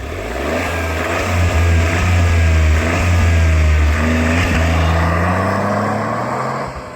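A Renault Twingo GT's engine drones steadily while driving, a loud, close mid-pitched hum whose tone rises and shifts as the car pulls and accelerates through the whole stretch.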